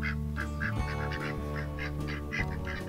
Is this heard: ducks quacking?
yes